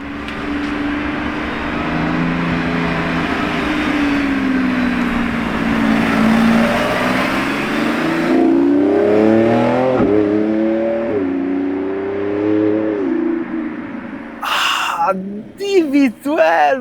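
A matte green Lamborghini Urus SE revs outside the factory, the engine holding a loud sustained drone that rises and falls in pitch through several blips, with excited voices talking near the end.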